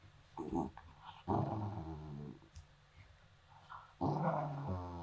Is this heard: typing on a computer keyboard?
no